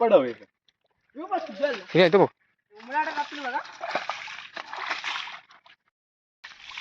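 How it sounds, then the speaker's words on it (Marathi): Water splashes and sloshes in short bursts as a live fish thrashes in shallow water during fishing in the Konkan, while several people talk loudly over it. "अजून पाणी वाढता बाहेर मासा वळवळती"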